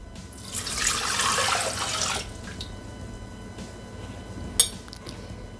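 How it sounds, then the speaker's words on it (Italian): Water runs into a Thermomix (Bimby) mixing bowl for about a second and a half, a steady splashing pour that stops abruptly, followed by quiet kitchen room tone and a single light clink. "Iniziamo la ricetta mettendo all'interno del boccale l'acqua."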